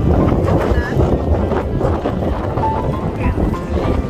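Strong wind buffets the microphone outdoors with a loud, gusting roar, with a person talking now and then beneath it.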